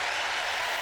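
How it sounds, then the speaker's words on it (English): Studio audience applause on a talk show, a steady wash of clapping with no gaps, fairly close and even in level throughout, with no voices over it. "My team out there, give Melissa a huge round of applause"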